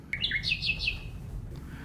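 A bird call rings out as a quick series of bright, high chirps, near and clear over a low background hum, then fades to quiet.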